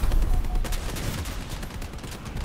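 Machine gun fire from a robot in the War Robots game, a dense loud burst of rapid rattling shots that tapers slightly over a couple of seconds, no talk.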